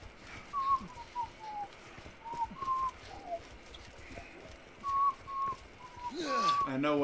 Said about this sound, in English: I know what you're whistling. What? Scooby-Doo.